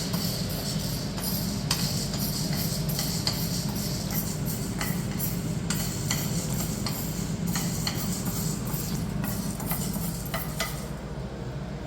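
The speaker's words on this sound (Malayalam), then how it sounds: "പൊട്ടൽ വരുന്നവരെ വറക്കുക." Whole spices frying in hot oil in a pan for a Trivandrum-style chicken fry, giving a steady loud sizzle dotted with scattered sharp crackles and pops, close and without talk.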